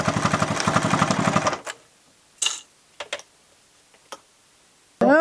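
A sewing machine stitches leather knife slips in a workshop, running as a fast, even rhythmic chatter for about a second and a half. Then it stops, followed by a few scattered clicks and a brief burst at the end.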